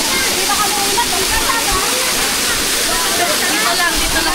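Rushing water pours steadily at Balagbag Falls, a loud, continuous broadband roar filling the scene without letup, with voices faintly mixed into the spray.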